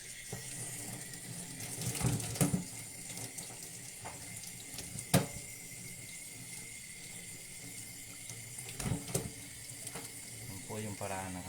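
Water runs steadily from a tap as cleaned catfish is rinsed, a constant close hiss broken by occasional clunks and splashes, with a voice speaking faintly underneath.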